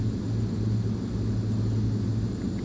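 Small single-engine airplane in climb with its throttle and propeller RPM being eased back, a steady close droning rumble with a strong low hum filling the cabin, unbroken and fairly loud.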